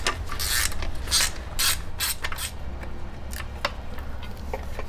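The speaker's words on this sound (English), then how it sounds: "And then go into here and get this 8mm bolt out." A ratchet wrench clicks in quick, close bursts of rapid ticking while backing an 8mm bolt out of a Kohler EFI engine, with a few pauses between strokes and no speech.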